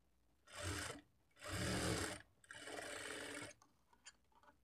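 Sewing machine stitching a blouse shape belt with a small frill, three short bursts of whirring close by, each about a second long and separated by brief pauses, then light clicks and no voices.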